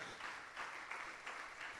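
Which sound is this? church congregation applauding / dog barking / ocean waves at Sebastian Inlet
church congregation applauding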